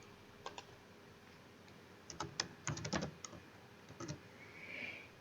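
Quiet typing on a computer keyboard, with scattered clicks in the first two seconds, then a denser run of keystrokes in bursts before it tapers off near the end.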